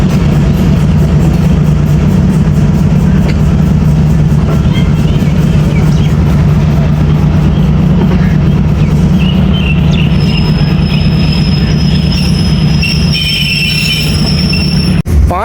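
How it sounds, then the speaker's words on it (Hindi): The Karachi Express train arrives at Sahiwal railway station with a loud, continuous rumble of rolling wagons close by, and high wheel squeals appear toward the end as it slows. "साहिवाल पहुंच गई जी हमारी 15 अब कराची एक्सप्रेस।"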